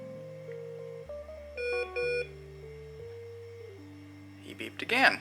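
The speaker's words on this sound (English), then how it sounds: "He beeped again." Beeps from a Smart Alex electronic smart toy made by Team Concepts around 2000: a series of clear electronic tones stepping through pitches, some layered, over about five seconds, followed by a brief noisy burst at the end.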